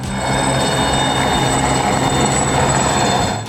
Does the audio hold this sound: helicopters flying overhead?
yes